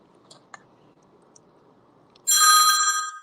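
Close, loud electronic ringing from a phone with an unknown incoming call bursts in near the end after a few faint clicks and soft background rustle.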